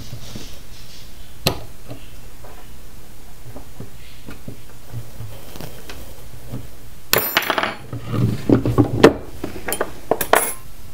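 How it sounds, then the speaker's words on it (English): Mini bolt cutters cutting through a metal spoon handle, a quiet stretch of faint handling clicks followed by a louder cluster of sharp metallic snaps and clinks near the end, close to the listener. "Now I use my mini bolt cutters to cut it."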